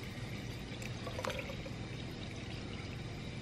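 Watermelon wine poured slowly through a filter, a steady soft trickle of liquid running on throughout with a brief splashier moment near the middle, heard up close.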